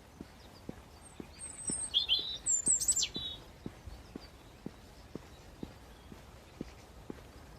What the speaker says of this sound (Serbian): Čuju se ptičice, ne znam koliko ih vi čujete.